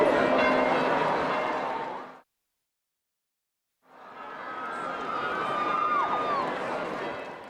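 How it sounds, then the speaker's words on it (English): A Vatican church bell rings out announcing the election of a new pope, a resonant ringing heard amid a crowd's murmur, broken by a brief silence midway before the tolling and crowd noise return. "The unexpected tolling of the Vatican bell creates tremendous excitement about who's been elected Pope."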